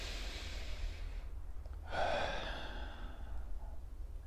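Slow demonstration breaths, a long airy exhale fading out, a brief pause, then a fuller inhale swelling in, close to the mic over a constant low rumble.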